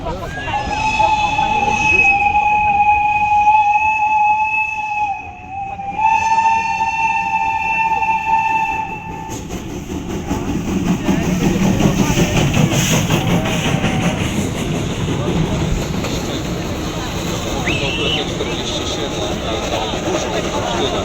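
Steam locomotives roll past during the 29th steam locomotive parade in 2025, with a loud sustained whistle tone at first, then a broad rumbling, clattering train noise continuing up close as people talk nearby.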